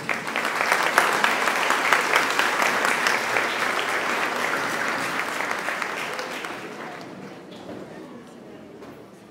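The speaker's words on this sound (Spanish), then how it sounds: "vamos a darle un aplauso de bienvenida a ellos" A church congregation at Sunday Mass claps in welcome, a loud, full wash of applause that holds steady and then gradually thins and fades away.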